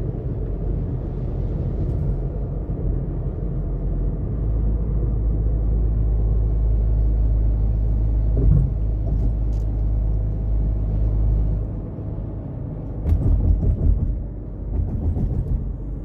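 A car drives over a new highway flyover, heard from the cabin as a constant loud low rumble of engine and tires, with a brief rougher patch of road noise near the end and no talking.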